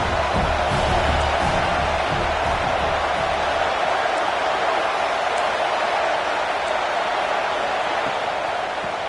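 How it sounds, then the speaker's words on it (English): Dense, steady roar of a home crowd cheering loudly at a football game, sustained and loud throughout without letup, with faint talk buried beneath. "Man, this crowd really affecting the football game"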